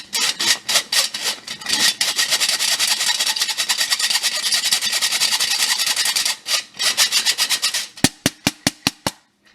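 Flour for red velvet brownies is sifted through a hand sifter, giving a rapid rhythmic scraping rasp close up that runs steadily, then ends with a handful of sharp separate taps.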